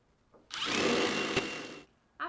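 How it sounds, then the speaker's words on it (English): A power drill whirs steadily for just over a second as it drives a grabber screw into a sliding interior door track, starting and stopping abruptly, close and fairly loud. "and secure with your grabber screws."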